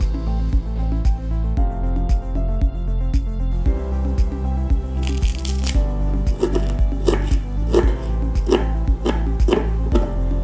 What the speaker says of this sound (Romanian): Tăiem ceapa, mărarul și le adăugăm la smântâna de caju.